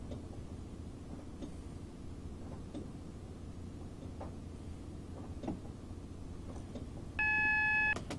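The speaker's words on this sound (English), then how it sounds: "the alarm came off because we got dropped to 70 here" A train cab alarm in the Train Simulator 2015 video game, on a Class 220 Voyager on the Portsmouth Direct Line, gives a short, steady electronic beep near the end over a low rumbling cab drone.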